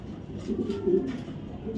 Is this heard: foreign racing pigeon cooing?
yes